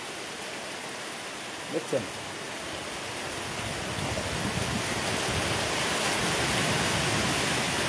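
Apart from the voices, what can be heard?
heavy rain with blowing wind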